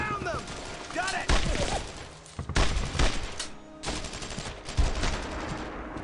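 Bursts of automatic gunfire and rifle shots crackle in waves in the World War II shooter Brothers in Arms, some loud and close, others more distant, with a soldier's voice calling out between the volleys.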